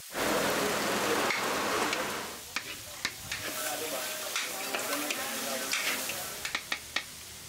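Garlic, onion, ginger and black pepper sautéing in a pan for an offal soup, a loud close sizzle broken by scattered sharp crackles and stirring clatters, with no talk.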